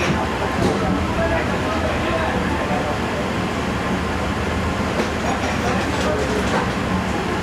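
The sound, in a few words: Allama Iqbal Express train departing Raiwind Junction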